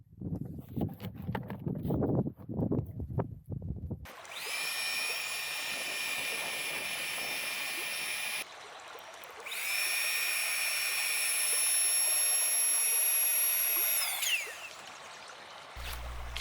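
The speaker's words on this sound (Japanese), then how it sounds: "防水ボックスに収納した電動ポンプでパックラフトを膨らませていきます。" An electric pump inflates a packraft, running with a steady high whine that stops briefly partway through and then resumes loudly before cutting off, after a stretch of handling noise at the start.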